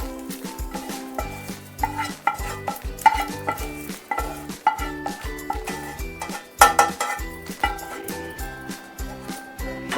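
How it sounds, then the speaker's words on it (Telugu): Sliced bitter gourd frying in oil in a pan, stirred steadily with a spatula that scrapes and clinks against the metal in repeated strokes over a soft sizzle, close and moderately loud. "ఇది కూడా బాగా వేయించాలి."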